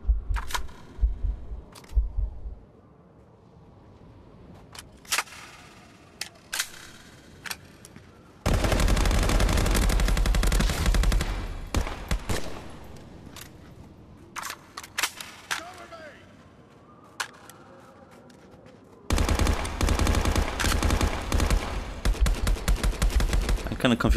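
Bursts of rapid gunfire from a gun in a VR shooter game on Meta Quest Pro, loud sustained volleys in two long stretches, with scattered single shots and clicks between them.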